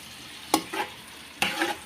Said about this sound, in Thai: รากผักชีกระเทียมพริกไทยโขลกนะครับ ผัดน้ำมันนะครับ